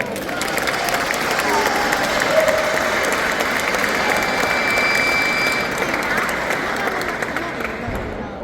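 Audience applause during a talk on hip-hop philosophy, sustained dense clapping from a crowd lasting the whole span, fairly loud, with faint voices underneath.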